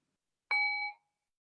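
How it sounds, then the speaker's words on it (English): A small meditation bell struck once and left to ring, its clear tone holding about half a second before fading into silence, heard over a Zoom call. "So I'll ring the bell. I have a little bell here."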